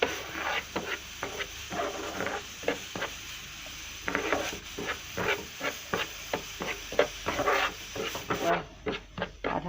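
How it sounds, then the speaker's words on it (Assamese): Semolina frying in ghee in a pan, stirred with a steady run of rhythmic scraping strokes over a soft sizzle, close and fairly quiet, with no talking. "চুজিখিনি অলপমান ফ্ৰাই কৰিম"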